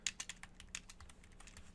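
Rapid typing on a computer keyboard while writing Python Flask code, a quick irregular run of crisp clicking keystrokes, close and alone with no talk.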